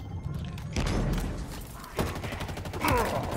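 Gunfire in the shooter Halo Infinite comes in bursts of sharp shots and thuds, moderately loud, with heavier volleys around the middle and the end, over a busy game soundscape.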